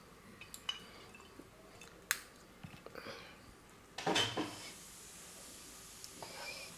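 Oil poured into a pan already holding hot oil for a Bengali potol ghonto with hilsa fish head, giving a short liquid splash and sizzle with small drips and clinks of kitchenware around it, close and moderately loud.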